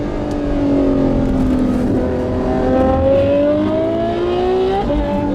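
A Pagani Zonda R supercar engine revs at half throttle, holding a loud, rising, droning pitch that climbs steadily before dropping off sharply near the end.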